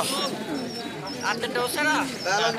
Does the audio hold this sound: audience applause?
no